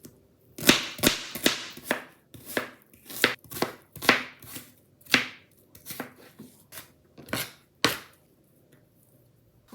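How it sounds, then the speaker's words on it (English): A medium-sized onion chopped with a knife on a cutting board, giving a steady run of crisp, close chopping strikes in irregular bursts with short pauses between them. "I'm gonna chop up 1 medium-sized onion to cook with this."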